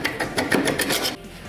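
Rhythmic rasping strokes of a file or saw cutting crosses into a metal nut, part of making a wooden bike chain, about seven steady back-and-forth passes, close and fairly loud, then stopping.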